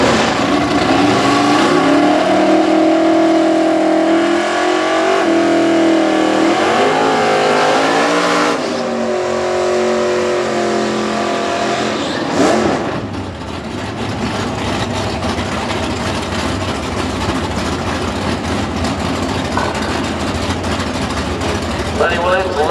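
Super stock drag race cars, including a Buick-powered Camaro and a 1970 Cuda 440, roar loud and close down the quarter mile, engine pitch rising and sweeping as they accelerate, with a brief dip before a steady, dense drone.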